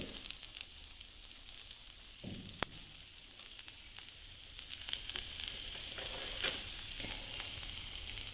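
A dosa frying in oil on a hot pan gives a steady soft sizzle and crackle, with occasional louder pops and light scraping touches throughout.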